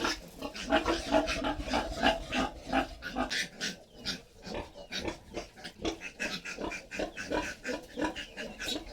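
Piglets grunt and squeal in a busy, continuous chorus, overlapping snorts pulsing in quick succession from several animals close by.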